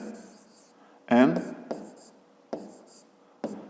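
Pen strokes write down a 5th-grade geometry answer, a few short scratchy bursts of writing separated by pauses, close and fairly soft.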